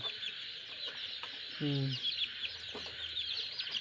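High, thin peeping of many chicken chicks chirping continuously, with a brief lower cluck partway through and faint background noise.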